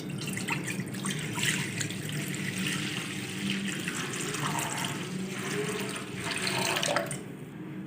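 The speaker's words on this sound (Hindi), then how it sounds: "कढ़ाई में सबसे पहले डालेंगे पानी। पानी डालेंगे 3 जग।" Three jugs of water pour into a kadai on the stove for white sauce pasta, a continuous splashing gush with gurgling swells that surges again near the end, with no speech.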